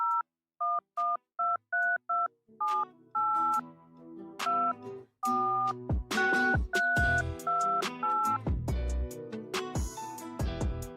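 Telephone keypad dialing tones: a quick run of short, evenly spaced beeps, followed by more tones that thicken into a louder, denser stretch of sound.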